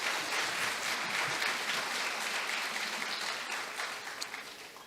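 An audience at an elementary school awards ceremony gives students a sustained round of applause, a dense, loud wash of many hands that holds steady and then gradually fades toward the end.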